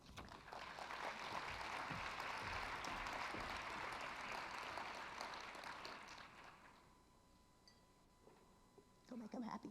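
An audience at a business talk event claps for two presenters, a broad, sustained wash of applause that fades out over several seconds before a voice begins speaking.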